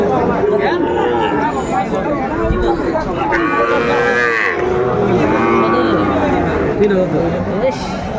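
Sahiwal bull calves low loudly at a busy cattle market, with several drawn-out moos rising over constant crowd chatter and nearby voices talking.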